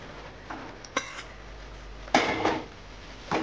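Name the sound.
mixing fried cauliflower into gravy in a pan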